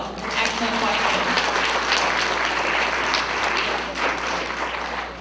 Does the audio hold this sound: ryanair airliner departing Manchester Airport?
no